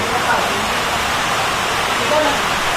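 Floodwater rushes in a flooded village as a dense, steady roar filling the whole clip, with no distinct breaks.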